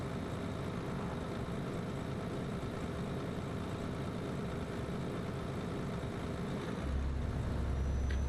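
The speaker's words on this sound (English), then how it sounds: "I like to hear the sound of the engine" A truck engine in the video game Euro Truck Simulator 2, a steady low droning rumble heard continuously from the cab, deepening slightly near the end.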